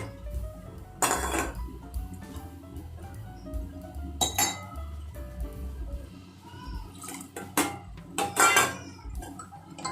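Soaked brown rice and moong dal are tipped and stirred into a pressure cooker in a home kitchen, giving repeated metallic clinks and scraping knocks in several bursts, fairly close, with no talking.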